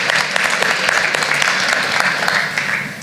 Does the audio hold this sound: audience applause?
yes